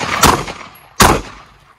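Two loud, close gunshots about three-quarters of a second apart during directional shooting practice at targets, each a sharp crack with a short ringing decay.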